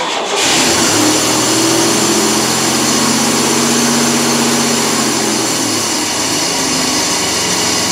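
A Chevy K1500 pickup truck engine cranks and fires, then settles into a loud, steady idle with a deep continuous rumble and constant drone that runs throughout with no talking.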